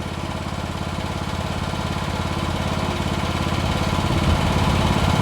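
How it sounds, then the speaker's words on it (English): A Chinese mini excavator with a small lawnmower-type engine idles steadily at close range, a continuous even chugging hum with no talk over it. "I'll go ahead, I've got it set at idle,"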